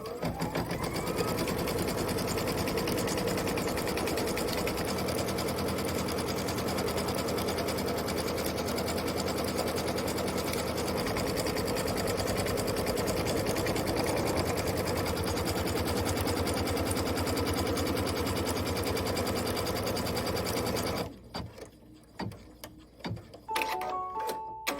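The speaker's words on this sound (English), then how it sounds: "Let's go ahead and do our tack down stitch, our placement stitch" An embroidery sewing machine stitching a tack-down placement stitch onto batting, a fast, steady mechanical whirring and clatter running continuously for about twenty seconds, then stopping with a few scattered clicks and handling noises.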